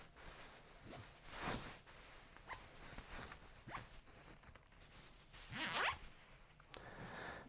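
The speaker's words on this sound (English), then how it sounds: "Zip it up, get any extra slack that's down in the cover." A zipper closes a Yogibo Hugibo fabric cover in a few quick, close pulls, with two louder zips separated by softer rustling and handling.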